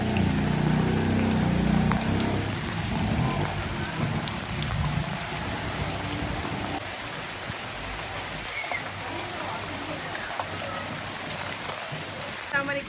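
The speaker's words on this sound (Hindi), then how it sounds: "इस वक्त यहाँ पर बहुत तेज़ बारिश हो रही है" Heavy rain falls hard in a steady, dense wash of drops close by, loudest at the start and easing slightly, with no speech.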